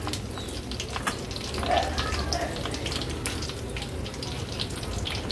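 Mustard seeds, cumin and bay leaves sizzle in hot oil over a low gas flame for a masale bhat tempering, a steady close crackle that holds for the whole stretch with no talking.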